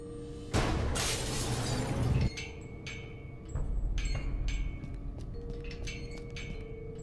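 Glass above a laboratory door shattering in the video game Gibbous, a loud crashing burst lasting about two seconds, followed by scattered tinkling shards and a second rumbling crash amid quieter game ambience.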